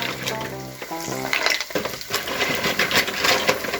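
Fresh mussels hiss and sizzle as they drop into a pan of sautéed onions, a loud, steady frying crackle after a brief clatter at the start.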